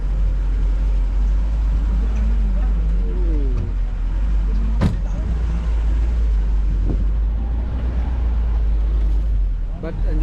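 Jeep on a rough safari track, its engine droning steadily at close range under wind buffeting, with a sharp knock partway through.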